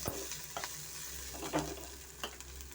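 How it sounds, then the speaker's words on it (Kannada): Onions fry in a pan with fresh ginger and garlic for pepper chicken, a soft sizzle under a few sharp spatula scrapes and taps, fairly quiet and close with no talk. "ಈರುಳ್ಳಿ ಫ್ರೈ ಆಗಿದೆ ಇವಾಗ ಇದಕ್ಕೆ ನಾನು ಶುಂಠಿ ಬೆಳ್ಳುಳ್ಳಿ ಫ್ರೆಶ್ ಸೇರಿಸ್ತಾ ಇದ್ದೀನಿ"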